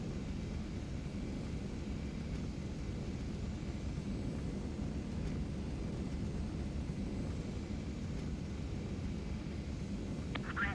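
A Saab AJS37 Viggen jet's engine rumbles steadily on the runway in a flight simulator, a broad continuous roar with no talking.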